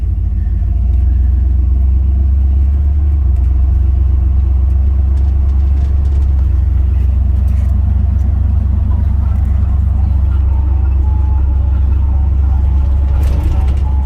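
A 1970 Ford F100 short-bed pickup with a 460 big-block V8 on the move, its deep engine rumble loud and steady throughout with continuous road noise and no pauses.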